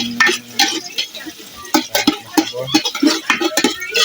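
A spatula stirs butter through a hot pan, giving quick, irregular scrapes and clanks against the metal with a light sizzle underneath, close and fairly loud.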